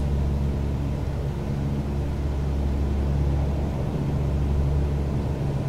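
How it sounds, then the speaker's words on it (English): A jet rumbles past in Microsoft Flight Simulator 2020 during a visual flight over Istanbul, a low steady engine drone holding level throughout with no talk. "I can hear a jet."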